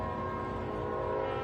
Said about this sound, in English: Hear that horn tooting now.